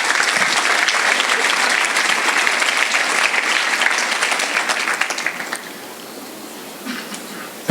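Warm applause from parents and guests at a French school fête, dense and sustained for several seconds before thinning out and tapering to scattered claps near the end.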